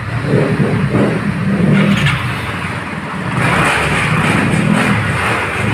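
An MXI 125 motorcycle engine runs and revs nearby, a steady loud rumble that rises and falls through the whole stretch with no pauses.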